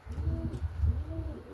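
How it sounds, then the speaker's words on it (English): A racing pigeon hen with Dutch bloodlines coos softly, a brief low rolling coo close by in a quiet loft, with no talk over it. "That there is an absolute stunning pigeon."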